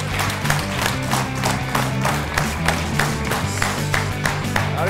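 Studio audience applause on a Georgian TV comedy game show, a steady dense clapping roar with a musical bed underneath throughout.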